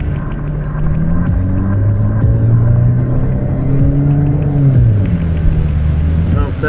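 A lifted off-road VW New Beetle stuck in the terrain, engine floored and revving in loud, close surges that climb, hold and drop back, with voices talking over it.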